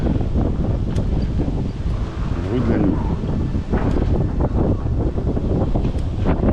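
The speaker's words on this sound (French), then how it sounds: "Ça souffle bien, il y a pas mal de vent." Strong wind blowing outdoors on a small road near a forest, buffeting the microphone in loud continuous gusts while a person speaks over it.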